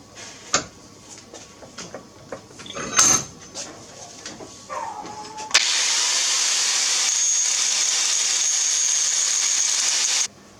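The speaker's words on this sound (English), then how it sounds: "And now with help from the grinder, everything's sitting pretty much smooth." Scattered handling clunks and knocks give way to a loud, steady grinder whine as metal parts for a homemade boat motor are smoothed, holding without a break for about five seconds.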